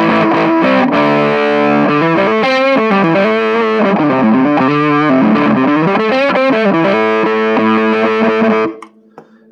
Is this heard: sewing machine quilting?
no